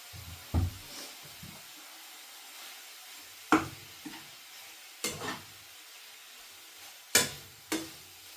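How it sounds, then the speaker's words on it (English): Chicken with paprika and chilli cooks in a pan, a faint low sizzle under several separate spoon scrapes and clanks spaced a couple of seconds apart. "The paprika, the chilli, it's all cooking nice."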